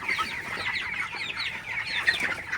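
Broiler chickens in a poultry shed cluck steadily and overlapping, a close, busy flock chatter with no talking.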